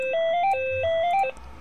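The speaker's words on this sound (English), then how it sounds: "You're gonna hear really loud ringing." A phone ringtone plays loudly and near during a Minecraft session, two repeated rising melodic phrases of clear electronic tones, then stopping abruptly with faint background left.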